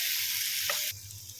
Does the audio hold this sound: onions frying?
yes